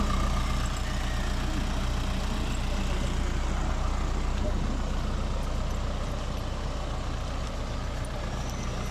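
An Isuzu 4HL1 turbo diesel engine in a 14-foot truck runs steadily after starting, with a loud, continuous low rumble and clatter that holds level throughout, and nobody speaks.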